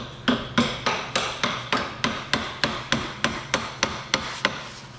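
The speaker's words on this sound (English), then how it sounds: "I need a hammer" A small hammer strikes metal scrap in a steady run of about eighteen sharp, evenly spaced blows, close and loud, with no talking.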